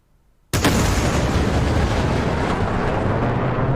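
An AIM-120C missile launches in the DCS flight simulator game, a sudden loud roaring blast after a brief quiet start that settles into a sustained, dense rushing rumble.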